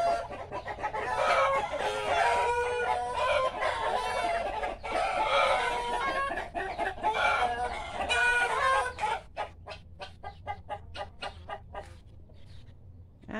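A flock of chickens in a yard clucks and cackles in a continuous, agitated chorus with crowing mixed in, then settles into scattered, rhythmic clucks toward the end; no talking.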